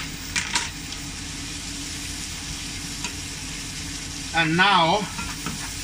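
Chopped pork shoulder fries in a pan with weeping bolete mushrooms for a stew, a steady close sizzle running throughout, briefly joined by a voice near the end.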